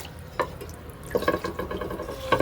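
Water splashes and trickles as it is poured to fill a pigeons' water bowl, starting with a brief spatter and then a steady, close, fairly quiet stream.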